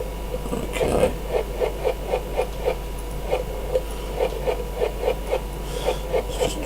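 Repeated rhythmic mechanical ticking and grinding of a drill boring through copper ore in FortressCraft Evolved, a steady run of evenly spaced pulses over a low hum, with no talking.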